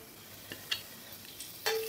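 Bay leaf and cinnamon go into about three tablespoons of hot white oil in a kadai, giving a faint, quiet sizzle with a few brief clicks of a stirring utensil.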